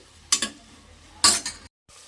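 Onion and tomato fry in a pan, with two bursts of stirring and scraping over a faint sizzle, ending in a brief silence.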